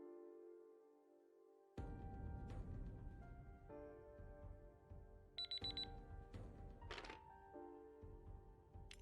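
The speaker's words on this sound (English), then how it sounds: "Timer has gone off." A timer alarm sounds during a tabletop game, starting with a quiet tone and then jumping to a loud, harsh electronic ringing with shifting pitches and clattering thunks, close and continuous, with no voices.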